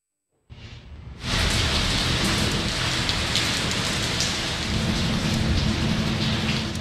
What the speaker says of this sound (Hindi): लाहौर में खूब बारिश हुई, अब्र रहमत ने जल थल एक कर दिया